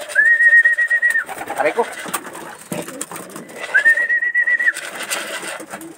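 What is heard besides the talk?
racing pigeons cooing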